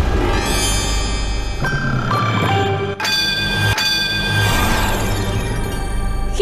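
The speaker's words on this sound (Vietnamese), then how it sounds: "chúng tôi tiếp tục được lắng nghe những tiếng nhấn chuông từ Thúc Bảo và Tuấn Khoa." Contestants on the Vietnamese TV quiz show Road to Olympia press their buzzer bells, giving several bright ringing dings that overlap with a sustained, tonal studio sound. Fresh strikes land at a few separate moments.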